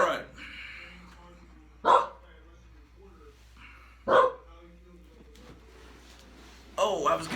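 A dog barks three sharp times, spaced a couple of seconds apart, from a short distance indoors, with a steady low hum underneath and someone talking between the barks.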